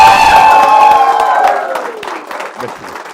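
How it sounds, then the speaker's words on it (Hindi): Audience cheering and clapping as a guest is welcomed on stage with a standing ovation, loud whoops and crowd roar up front that fade into scattered clapping and shouts. "खड़े पे ताली बजनी चाहिए।"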